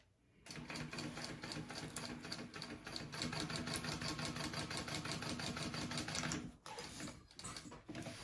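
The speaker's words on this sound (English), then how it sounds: "I'm going to just baste this on real quick." Sewing machine basting fringe trim onto fabric, running in a steady fast whir for several seconds before stopping briefly and starting again, close and clear with no talk.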